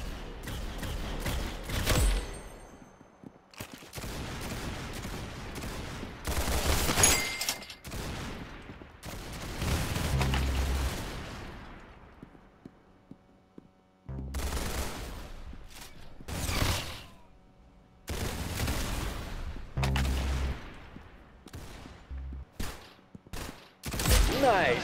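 Gunfire in the video game Roblox, repeated bursts of rapid shots and fusillades in loud clusters separated by brief quiet gaps over about twenty-five seconds.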